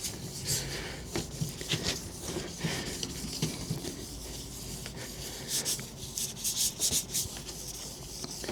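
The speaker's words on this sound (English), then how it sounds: "The Holtz kit, you actually go through stages of rubbing down." Porsche headlight lens being rubbed down by hand in stages with a Holts restoration kit, giving close, repeated scratchy sanding strokes in irregular bursts, with no talking.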